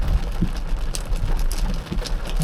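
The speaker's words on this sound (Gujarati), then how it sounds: "રિટર્ન જતી વખતે ધોધમાર વરસાદ તૂટી પડ્યો છે" Heavy rain pours steadily in a downpour near Montreal, Canada, a dense continuous hiss with scattered louder drops spattering close by.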